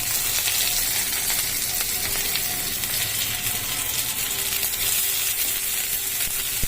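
Chopped garlic and onion frying in a pan for a cabbage dish, a loud continuous hissing sizzle with light stirring underneath, steady and close throughout.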